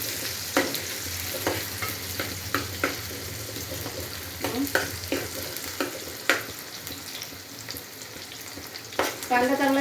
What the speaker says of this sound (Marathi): तेल चांगलं गरम झालंय. लसूण टाकून घेऊ. त्याच्यानंतर कांदा टाकून घेऊया.